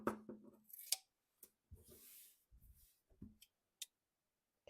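Scissors cut through old denim jeans fabric, producing a few crisp snips and crunching slices separated by quiet gaps, close and fairly faint.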